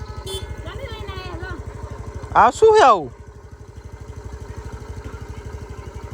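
An Activa motor scooter engine idles with a steady, rapid putter close by, while people talk briefly over it and a louder burst of voices rises midway.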